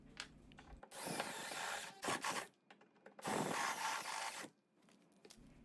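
Hand file scraping burrs from drilled holes in metal stock for a sliding fence gate, two long rasping bursts with a short stroke between, close and fairly loud, no talking.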